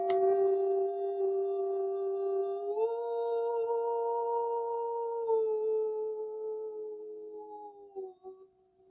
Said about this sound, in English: I'm using my vocal cords as an instrument. So it can sound a little bit like singing.